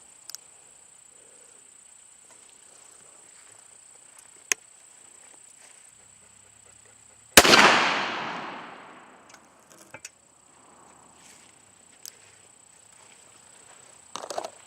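A single loud shotgun blast from a Winchester firing a 3-inch steel shot #2 shell, sharp onset with a long decaying tail outdoors, amid a quiet background with faint clicks.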